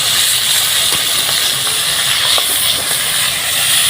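Flipped pieces of pangas fish fry in hot oil, a continuous loud hiss with scattered small pops and crackles, close by.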